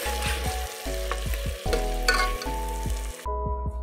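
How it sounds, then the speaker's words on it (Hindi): Tomato masala paste sizzles and fries in a pan for mash ki daal, with steady crackling and rhythmic stirring scrapes throughout, close and clear, then the sizzle drops away near the end. "अब हम इसकी 5 से 10 मिनट तक अच्छे से बुनाई करेंगे"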